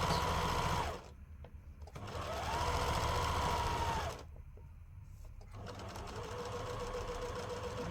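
Sewing machine stitching the overflap of a patchwork stocking, running in steady bursts with brief pauses between runs, close and fairly loud with no talk.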